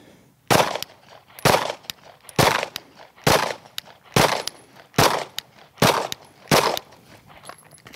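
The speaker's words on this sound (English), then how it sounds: "I'm gonna take the shots as the feet plant." Eight sharp gunshots fired at a steady pace, about one per second, while the shooter advances forward in a run-and-gun drill, each report loud and close with short decay.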